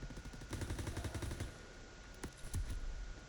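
Rapid automatic gunfire from a World War II shooter game, Call of Duty WWII, rattles in a fast burst of evenly spaced shots, followed by a few separate single reports, moderately loud with no talk.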